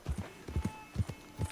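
Horse hooves clatter in quick, uneven clusters as a horse gallops in Red Dead Redemption 2, fairly faint and close, with no talk over it.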